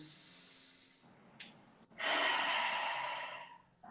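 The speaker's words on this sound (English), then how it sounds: "Now I'm making a roaring sound." A breathy hiss fades out, then a long, forceful rushing exhale roars out loudly before trailing off, with no words spoken, made during a pranayama breathing exercise.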